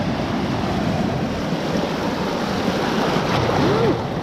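Ocean surf rolls and washes around a dog named Buddy at Old Orchard Beach, Maine, a loud continuous wash of waves with wind buffeting the microphone, no voices.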